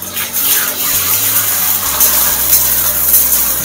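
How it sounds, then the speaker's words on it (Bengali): Tomato paste goes into a hot pan with onion, dried chillies and bay leaves, setting off a loud, wet, bubbling sizzle that keeps up steadily, with soft low thuds underneath. "টমেটো বাটাটা দিয়ে দেব।"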